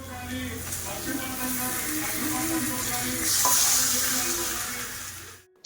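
Washed chicken frying in a pan with turmeric and ginger-garlic paste, a steady close sizzle with some stirring that swells slightly midway, then fades before a brief sharp knock at the end.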